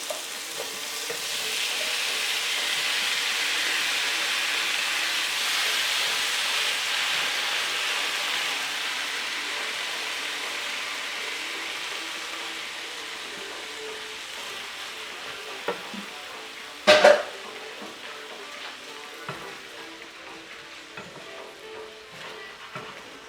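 Shrimp sizzle loudly as they are sautéed in a hot pan, a dense steady hiss that fades gradually, with a brief sharp clatter near the end.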